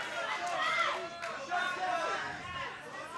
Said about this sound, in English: You can hear all the Twisters fans in the crowd calling for a shot clock